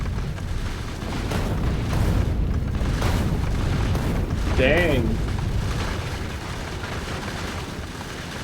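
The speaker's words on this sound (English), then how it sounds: "Oh, it's firing the cannon." Spaceship cannon in the Factorio video game fires explosive shells, giving deep booming blasts over a steady rumbling game soundscape, with a brief voice speaking.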